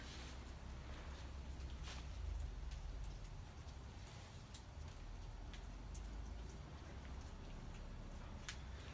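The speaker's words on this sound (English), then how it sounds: "You can hear a little more beans cracking" Coffee beans cracking while roasting, scattered sharp little pops and ticks sounding irregularly over a constant rushing roaster noise, faint and close, with no one talking.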